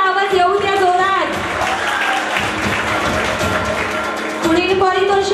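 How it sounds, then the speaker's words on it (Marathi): An audience claps loudly at a college annual function and prize distribution, with dense applause for a few seconds and someone speaking before and after it. "सर्वांनी जरा टाळ्यांचा आवाज येऊ द्या जोरात."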